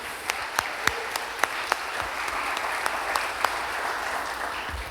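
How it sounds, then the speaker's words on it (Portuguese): Clapping from a congregation during a church service, steady and dense across the whole stretch, with a few sharper individual claps standing out above the crowd. "Dá uma salva de palmas, me ajuda aí"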